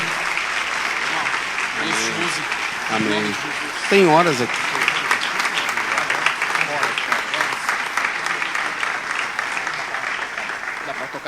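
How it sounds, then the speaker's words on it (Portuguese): A church congregation applauds steadily throughout, with voices calling out briefly over the clapping. "Vamos aplaudir ao Senhor"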